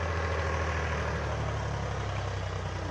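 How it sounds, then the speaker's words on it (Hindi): A Powertrac tractor idles in a waterlogged field in a Bhiwani-area village, its engine putting out a steady, even low rumble with no talking. "पावर ट्रैक ट्रैक्टर है"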